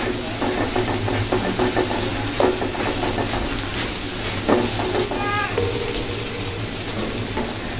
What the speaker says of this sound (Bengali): তো যে বাঁশপাতা শুটকিগুলো বেশ ভালো করে ভেজে নিতে হবে, যেন শুটকির যে কাঁচা ফ্লেভার যে না থাকে।